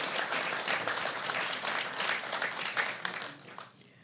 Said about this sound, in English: we want to give John another round of applause and the candidates, and Heather.